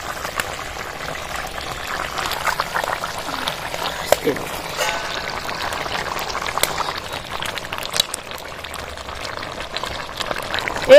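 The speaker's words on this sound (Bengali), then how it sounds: "মাছ ভাজাগুলো এবার ঢেলে দেবো" Fried small chuno fish go into a bubbling potato-and-eggplant curry, giving a steady liquid simmer and pouring sound with light clatters, and a voice talks over it.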